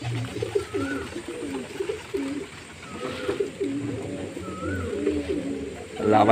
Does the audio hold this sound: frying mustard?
no